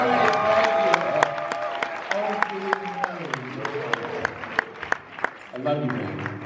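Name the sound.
audience applause at seminar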